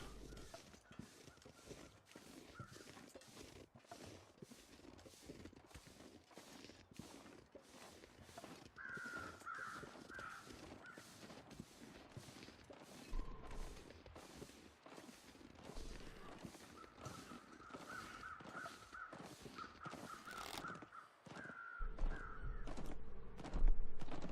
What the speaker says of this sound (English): Set of crows there circling something.